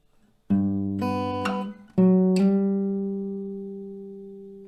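Low acoustic guitar G bass notes plucked close up, a couple of deep tones followed by a longer ringing note that fades slowly.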